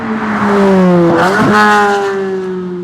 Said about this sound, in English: You hear that high-pitched, that sound, that intoxicating sound that Z06 generates.